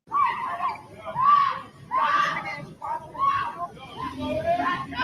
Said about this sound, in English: she's shrieking and she's attacking him